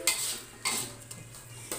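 A utensil stirs peanut sauce in a pan, making repeated scraping strokes against the pan at an uneven pace, close up, with no voices.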